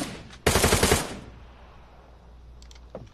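A short, loud burst of automatic rifle fire in PUBG, several rapid shots in under a second, then quiet with faint game ambience and a small sound near the end.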